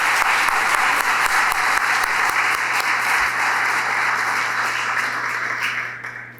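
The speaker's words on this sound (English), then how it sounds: "Let's give one more round of applause for this group." Sustained applause from an audience at a college of medicine faculty recognition ceremony, honoring award recipients; dense, steady clapping that holds for several seconds before tapering off.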